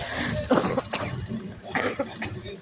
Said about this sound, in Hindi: मुझे खांसी भी, सर्दी खांसी हो रही है, इसके कारण मुझे खांसी चल रही है।